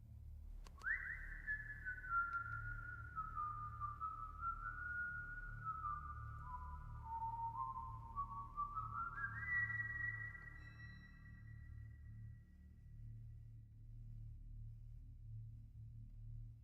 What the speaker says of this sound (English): That doesn't sound like the Whistle I remember.